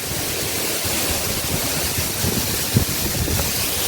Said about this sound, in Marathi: हा बघा तो धबधबा